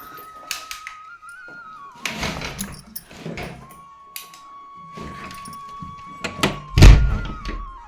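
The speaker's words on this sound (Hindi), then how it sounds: "कुंडी ताला लगा के।" A house door is shut with solid thunks, then its bolt and lock rattle and clack in several close, loud bursts, with a steady tone running underneath.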